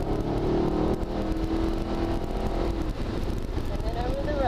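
A Mercedes SLS AMG accelerates on the track at Atlanta Motorsports Park, its engine a loud, sustained drone from inside the car with a narrator speaking over it.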